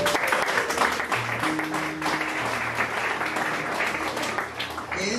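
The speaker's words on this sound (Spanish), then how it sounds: "Fuerte aplauso, por favor." Wedding guests applauding during the ceremony, a full, steady round of clapping from the gathered crowd with a few faint background tones and sounds underneath, lasting several seconds.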